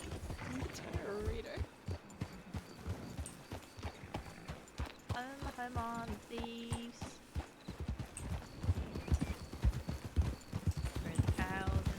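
A horse in Red Dead Redemption 2 roleplay trots with steady, close clip-clopping hooves throughout, under frequent talking and some background music.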